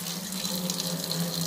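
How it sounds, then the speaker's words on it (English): Tap water pours steadily from a kitchen faucet while prawns in coconut milk are prepared, a close, continuous rushing splash heard alone. "you just pour water. Okay, pour tap water."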